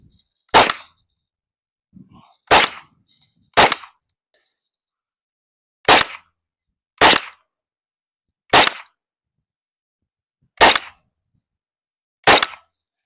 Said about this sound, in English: we're gonna go ahead and shoot that little piece of wood right there.